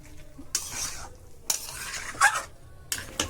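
Mutton curry sautéed in a pan: four distinct bursts of spoon stirring and scraping against the metal with a soft sizzle between strokes, close and moderately quiet.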